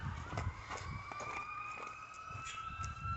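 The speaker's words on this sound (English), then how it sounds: "You hear all the sirens going on?" Emergency vehicle sirens wail outside, rising and falling at a distance, faint but steady over low traffic rumble.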